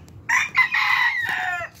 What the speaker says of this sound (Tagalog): Ito mga manok ko mga idol.